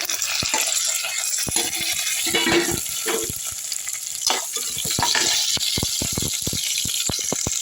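Onion, garlic, green chilies and dried red chilies sizzle loudly in hot oil with urad dal and cumin for a lentil and greens rice dish, a steady close-up frying hiss with frequent stirring clicks and scrapes throughout.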